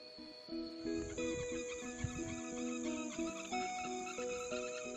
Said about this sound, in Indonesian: suara serangga menjadi lantunan